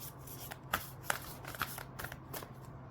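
Tarot-style guidance cards shuffled by hand at close range, a soft, steady riffling rustle with several sharper snaps and slaps spaced through the passage, faint and alone with no talking.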